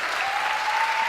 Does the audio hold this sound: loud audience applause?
yes